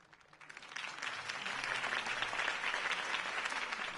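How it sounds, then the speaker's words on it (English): A crowd applauds, the clapping swelling from faint to a steady, full wash of hands. "could have heard that applause"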